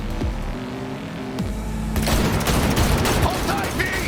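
Gunfire erupts during a car chase in the video game Cyberpunk 2077. Rapid, dense bursts of shots break out midway over a droning engine hum, close and loud.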